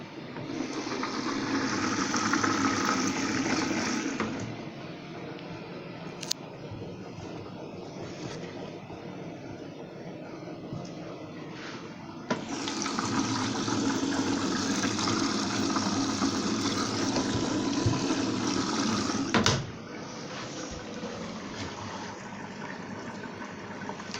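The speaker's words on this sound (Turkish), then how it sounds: "suyunu alırken çamaşır sodasını ekleyelim." A washing machine fills with water at the start of a short 60-degree cotton program for summer cotton blankets, giving a steady rushing, pumping hiss with louder surges near the start and in the middle, with no talk over it.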